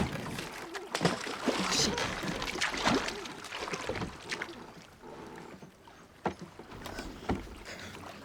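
A boat drifting on open water in the TV series Homecoming, with soft sloshing and splashing under a continuous wash of ambient sound, with speech over it.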